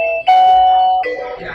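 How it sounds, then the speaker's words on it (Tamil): A doorbell calling bell rings a clear two-tone ding-dong chime, loud and close, the second tone fading out alone. "இதுல டிங் டாங், பேரட் அந்த மாதிரி மியூசிக் எல்லாம் வந்துரும்."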